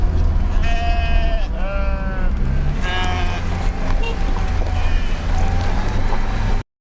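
A flock of sheep bleats in a high mountain pasture in Azerbaijan, with several separate calls near to mid-distance over a steady, loud rumble of a vehicle engine.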